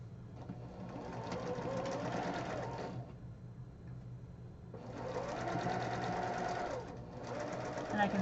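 A sewing machine stitches a quilt block in two fairly quiet, close bursts of rapid, even whirring, with a pause between and a brief break near the end.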